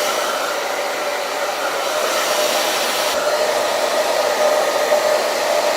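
A hair dryer blows steadily at close range while drying a wig during a first-time install, a constant loud whoosh with no speech.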